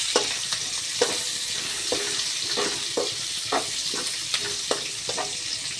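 Chopped onion and green chili sizzle in hot oil with ginger and garlic while cooking restaurant-style chowmein; a steady frying hiss runs throughout, punctuated by regular scraping stirs of the spatula every second or so.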